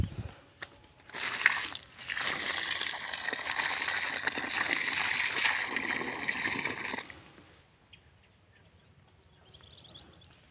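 Water is poured from a drum onto trees, making a steady, close splashing gush. It lasts about six seconds, then tapers off into faint drips and quiet.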